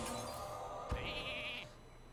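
A cartoonish sheep bleats once, sharp and close, after a Polymorph spell in the card game Hearthstone, over a steady bed of game music.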